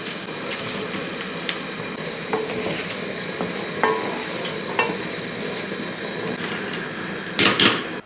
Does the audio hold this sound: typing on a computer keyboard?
no